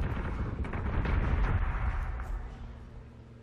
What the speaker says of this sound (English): Missiles coming in.